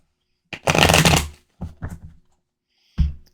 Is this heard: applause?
no